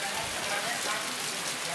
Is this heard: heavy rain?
yes